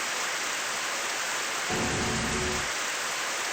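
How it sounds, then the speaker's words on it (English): Rain falling indoors in a video game, a steady hiss of pouring rain with a louder rumbling swell for about a second in the middle, no talking. "Why is it raining indoors?"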